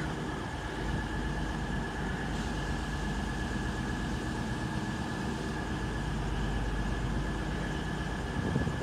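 A CrossCountry Class 221 unit, 221121, stands at Bristol Parkway station before departing for Newcastle, giving off a steady, close diesel rumble with a constant hum and no voices.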